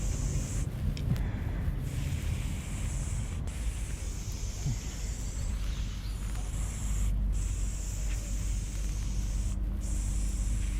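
Spray paint cans hiss steadily while graffiti is painted, a close, continuous airy spray broken by a few short sharper bursts, with no talking over it.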